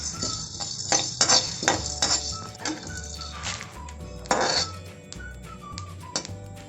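Black pepper and cumin dry roasting in a metal pan for idli podi, the spices rattling and a utensil clinking and scraping against the pan in irregular bursts, close and fairly loud.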